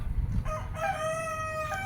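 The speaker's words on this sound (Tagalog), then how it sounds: "manok." Backyard chickens cluck low near the start, then a rooster lets out a loud drawn-out crow close by.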